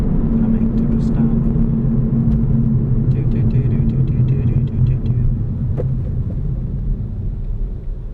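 A 2009 VW Rabbit manual hatchback rolls to a stop, its steady low engine and road rumble easing slightly toward the end while a person talks inside the cabin.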